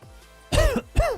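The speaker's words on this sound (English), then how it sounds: "Pardon me for the cough." A single person's cough breaks out sharply, then a second, close and loud in a quiet room, following a stretch of near silence.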